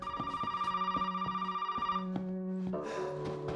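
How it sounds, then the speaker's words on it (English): An old-style telephone in the horror game Resident Evil 7 rings with a rapid, rattling electronic bell, a bright tone pulsing for about two seconds, then shifting into a lower sustained chime with steady rhythmic ticks beneath. "Actually, let's answer the phone."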